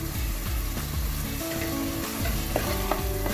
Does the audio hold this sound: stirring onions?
yes